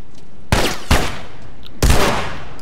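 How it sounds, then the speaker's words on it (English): Enemy gunfire in The Last of Us Part 2: three sharp, loud shots arrive as separate bursts with short gaps between them, with no talk over them. "Who else is shooting me?"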